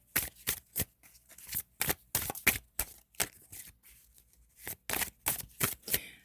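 Tarot cards being shuffled in a rapid series of sharp, crisp riffling bursts, close and fairly loud, with brief gaps between them and no talk.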